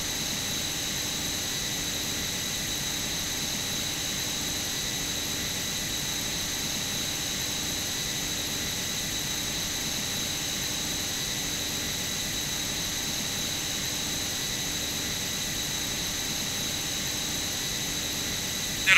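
A jet aircraft in the flight simulator Strike Fighters 2 roars steadily and loudly for the whole stretch, a constant broad engine noise with no voices over it.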